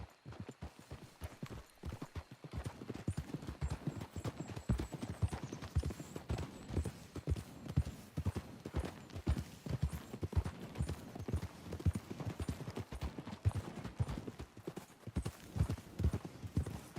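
Horse hooves clip-clop steadily in Red Dead Redemption 2, several horses at a walking pace on a trail, a continuous close rhythmic clatter for the whole stretch with an occasional faint snort.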